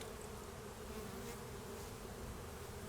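Honeybees buzz at a hive during a January inspection, a steady, even drone that holds low and constant throughout, with no voices.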